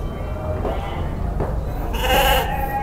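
Garut sheep bleat in short calls at a busy livestock market in Padalarang, several brief cries rising over a constant crowd murmur and chatter.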